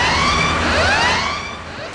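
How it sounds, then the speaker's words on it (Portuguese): A fire brigade vehicle's siren wails loud and close, its rising and falling tones overlapping with echoes before it fades slightly as it moves off. "A sirene toca."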